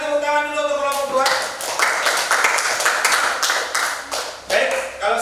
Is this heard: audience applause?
yes